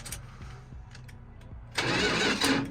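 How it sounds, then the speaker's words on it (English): A 1985 Dodge D150 pickup, abandoned in a trailer park, has its starter cranking with a rhythmic whirring and chugging before the engine noise suddenly rises louder for the last second, heard close up. "Let's see if it'll crank."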